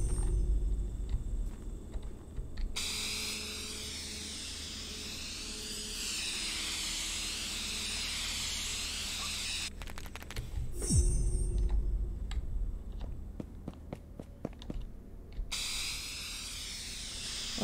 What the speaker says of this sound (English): All right, I think this is it for today with the spray painting.